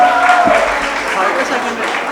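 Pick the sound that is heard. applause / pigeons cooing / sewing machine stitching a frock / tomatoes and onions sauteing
applause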